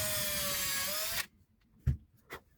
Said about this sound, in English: I'm just going to drill the final hole.